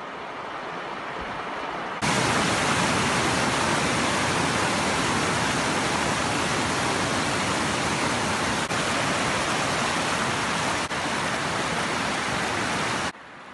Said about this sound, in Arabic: تدفق بهيج لمياه الوادي، شلالات عذبة وبرك مائية